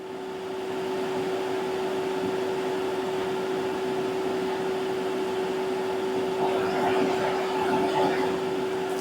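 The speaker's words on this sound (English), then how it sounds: "So I'm going to set this to recharge to" A car AC refrigerant recharge machine works on a 2009 Toyota Highlander, giving off a steady, close electric motor hum with a constant tonal whine that barely changes throughout.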